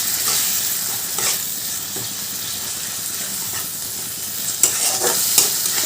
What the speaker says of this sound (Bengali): এবার সব কিছু ভালো করে মিশিয়ে নেবো